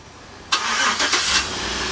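A 2010 Chevrolet Suburban LTZ engine starts up by remote start, a sudden burst that settles into a steady idle, with a couple of brief surges, heard close and alone.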